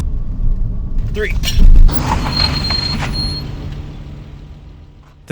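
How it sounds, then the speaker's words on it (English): A Spec E30 BMW race car with upgraded brakes stops hard from speed, giving a low mechanical rumble with a sharp creaking surge partway through, then fading to quiet with a final knock. "The car stopped violently"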